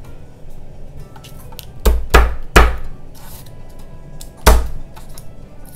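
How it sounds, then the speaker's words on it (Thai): Knife chopping vegetables for kale soup on a board: a quick cluster of three sharp thuds, a pause, then one more, with quiet kitchen background between them. "ถ้าเกิดว่าอยากให้สุกเร็วนะก็หั่นชิ้นเล็กหน่อยค่ะ"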